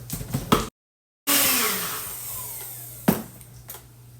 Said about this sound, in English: we put our lid on here, and then we're going to run it again through our mixer